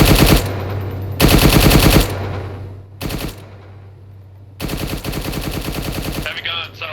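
Heavy machine gun fire in the video game ArmA 3 comes in four loud, rapid bursts of different lengths, separated by short pauses with a faint low hum underneath.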